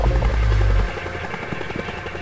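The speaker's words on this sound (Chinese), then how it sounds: "boss 在这个直升机上" A helicopter in the arcade brawler Spikeout, carrying the boss, gives a loud low rotor drone that cuts off after about a second, leaving quieter game sounds.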